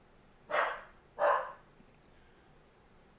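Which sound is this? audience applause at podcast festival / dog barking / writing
dog barking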